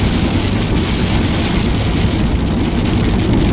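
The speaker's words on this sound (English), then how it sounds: "When I'm not driving down the road, the rain just runs down the windshield." Steady heavy rain drums on a car windshield while driving along a road, a dense unbroken wash of noise with a low engine rumble beneath, loud and close with no voices.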